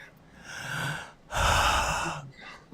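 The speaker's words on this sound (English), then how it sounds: "Who's breathing it into their mic?" Someone breathes heavily into a microphone, giving two breathy rushes of air, a softer inhale followed by a louder, longer exhale, close and with no speech.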